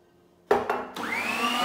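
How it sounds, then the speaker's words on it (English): An electric mixer whisks egg whites to soft peaks for an Italian meringue, a steady close whirring motor that starts abruptly, briefly dips, then runs on continuously without any talk. "whisk these egg whites to soft peaks"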